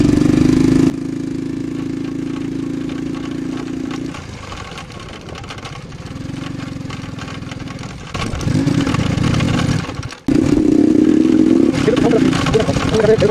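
A motorcycle idles and then pulls away onto a main road in Faridpur, its engine drone steady and close. It eases off in the middle, then comes back louder after a short dropout near the end.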